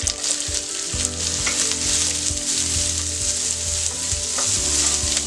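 Onion fries in hot oil in a pan for a Marathi pumpkin bhaji, a constant close sizzle broken by repeated scraping stirs of a spoon against the pan, with no voices.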